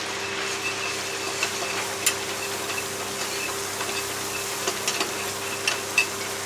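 Butter and flour roux is stirred in a pan, giving a steady close sizzle with light, irregular scraping ticks from the utensil.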